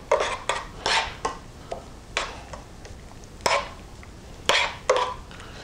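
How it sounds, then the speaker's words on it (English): A spoon stirs butter and parsley into a peppered steak sauce in a pan, with repeated close scraping strokes and clinks against the metal in an irregular rhythm. "we're going to give this a nice stir"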